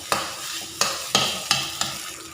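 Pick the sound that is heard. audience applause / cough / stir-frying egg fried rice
stir-frying egg fried rice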